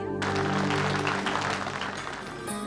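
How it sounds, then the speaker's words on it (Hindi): Applause from an audience opening a cultural programme, a dense steady clatter of clapping over a sustained low musical drone, ending abruptly. "तालियां"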